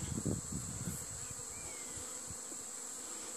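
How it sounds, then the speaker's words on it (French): A dense, steady hum of many honeybees buzzing up close in a hive, with a few louder individual buzzes passing near at the start. "il y a beaucoup d'abeilles dans la ruche."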